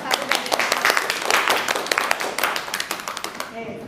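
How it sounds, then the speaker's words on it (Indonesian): A classroom gives a student a brief round of applause: quick scattered clapping from a small group, close and lively, with voices mixed in, thinning toward the end. "ya kita berikan aplaus kepada Mas Satu"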